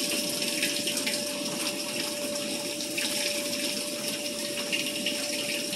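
Steady running water as a detergent cup for a washing machine is rinsed under a tap, a continuous even rush with a faint pump-like hum throughout, no speech.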